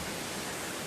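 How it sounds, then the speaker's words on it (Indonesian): A large, heavy waterfall in a village setting gives a steady, loud, broadband roar of rushing water that fills the whole short moment with no voices. "ini suara air terjun yang begitu"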